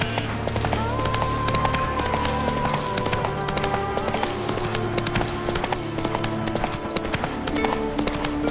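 The horse Roach galloping in The Witcher 3: Wild Hunt, with a loud, continuous clip-clop of hooves in a quick, even rhythm over game music.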